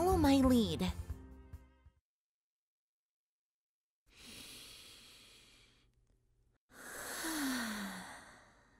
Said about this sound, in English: It's a breathing exercise my sister-in-law taught me.